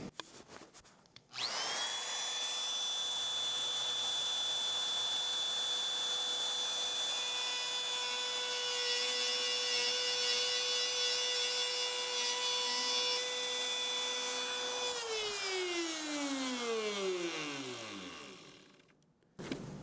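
A power tool, likely a router, cuts wood along a clamped template for an RV water closet cabinet, running at a steady high whine for about thirteen seconds before winding down to silence.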